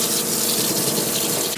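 Steady, loud rush of water spraying at strong pressure from a Bathing Beauty dog bathing system during a big dog's bath, continuous and close with no talking.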